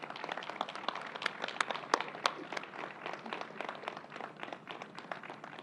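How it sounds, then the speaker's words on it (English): Applause for nursing students and National Guard members at a Johnson City COVID-19 update, dense crowd clapping with sharp individual claps standing out, steady and moderately loud throughout without talk. "let's give them another round of applause and welcome Donna Lepardo"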